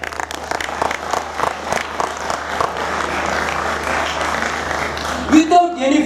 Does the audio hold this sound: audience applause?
yes